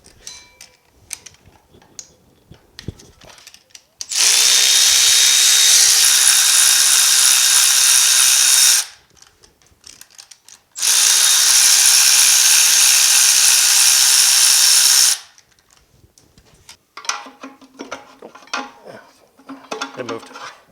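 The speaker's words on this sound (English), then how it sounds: "All right, let's get the flywheel off." A power tool, likely an impact gun, loosens the steel flywheel bolts on a 1965 Chevelle engine in two long loud continuous buzzing bursts, with scattered metallic clinks and handling noises between and after.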